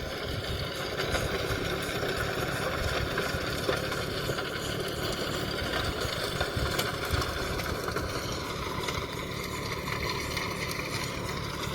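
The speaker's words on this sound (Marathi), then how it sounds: "हे ऊसात चालवण्या लायकीचा ट्रॅक्टर आहे" A tractor engine idles steadily nearby, a continuous low mechanical drone with a constant throbbing hum and no changes in pace.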